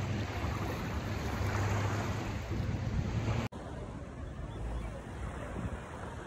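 Surf washes in at Waikiki Beach, Hawaii, as a steady, loud broadband rush of waves mixed with wind buffeting the microphone, briefly cut off midway before resuming slightly quieter.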